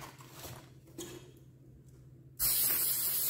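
Can of spray adhesive being sprayed to stick a doll onto foam board; after a quiet, faint stretch, a loud sustained hiss starts abruptly close by and continues.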